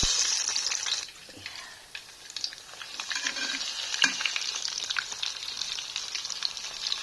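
Homemade food frying in a pan, a steady loud sizzle with crackles and a few stirring clatters throughout, no voices.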